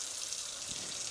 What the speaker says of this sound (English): You run the water,